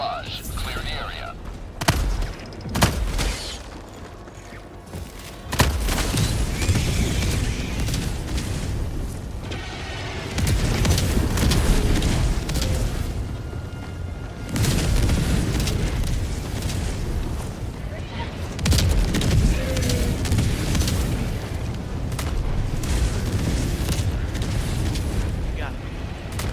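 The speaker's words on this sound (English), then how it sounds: "Firing orbital barrage." Orbital barrage strikes in Helldivers 2 pound the ground in repeated heavy booms and rumbling blasts, loud and continuous for most of the stretch, with brief voices mixed in among the detonations.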